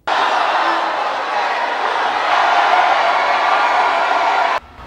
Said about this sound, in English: They were welcomed home by a massive crowd at the Piarco International Airport.